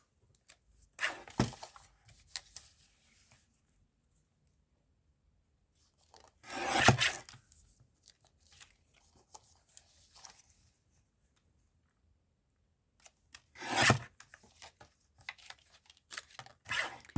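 Scissors trimming the edge of paper glued onto backing paper, three separate bursts of cutting and rubbing spaced several seconds apart, close with quiet between.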